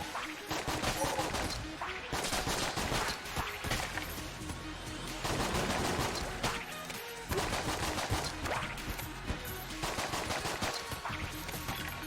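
Rapid bursts of gunfire in Enter the Gungeon, dense volleys of shots hammering almost without pause, loud and continuous, broken only by short gaps between the bursts.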